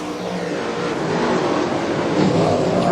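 Late model dirt race cars roar around Carina Speedway during an Ultimate Dirt Series A-main, a loud, continuous engine drone with rising revs as two cars run nose to tail through the turns.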